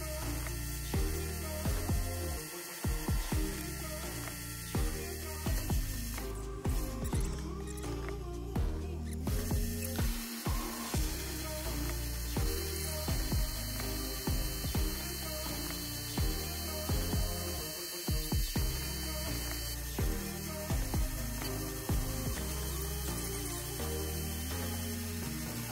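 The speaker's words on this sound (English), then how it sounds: "we're using a 5/8 end mill here, that's carbide, just to go between the jaws and start milling out this relief step" Carbide 5/8 end mill milling a relief step in a shaft held in a vise, a steady machine hum with rhythmic ratcheting cutting pulses repeating throughout, no talk.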